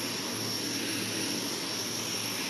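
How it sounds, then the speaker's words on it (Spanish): Four-engine KC-130H Hercules turboprops running at an airbase apron after parking, a continuous even engine drone and whine, moderately loud and unbroken. "acaban de estacionarse estos dos aviones Hércules modelo KC-130H que llegan desde España"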